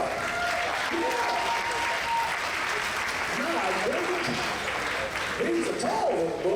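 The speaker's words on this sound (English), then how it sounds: "Give this man a big round of applause for being so smart." Steady, dense applause from the audience at a live Ozarks Opry musical variety show, filling the room throughout; a voice talks and whoops over it, with brief whistle-like tones.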